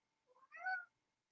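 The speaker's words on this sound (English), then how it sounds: "Our kitty cat's being bad." A house cat gives a single short meow, faint and close, in an otherwise quiet room.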